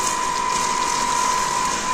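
Hand spray bottle pumped to mist water over a tulsi plant, giving a steady hissing spray with faint ratcheting clicks of the trigger, close and continuous throughout.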